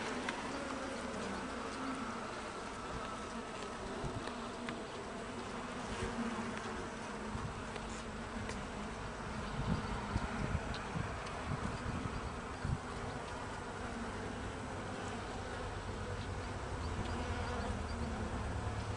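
Carniolan honeybees swarm around an open hive, a dense, continuous buzzing drone close by that swells and ebbs slightly, with no voices.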